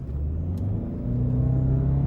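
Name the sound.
Toyota Camry accelerating from 0 to 60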